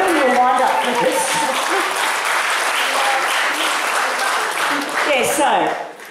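An audience claps loudly and steadily at a talk by a doctor, with voices mixed into the applause before it thins out at the end.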